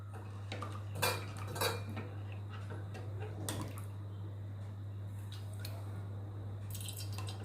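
Batter for kinnathappam being worked through a fine sieve, with a few light metallic taps and scrapes near the start, then a soft steady wash of liquid over a constant low hum, with no speech.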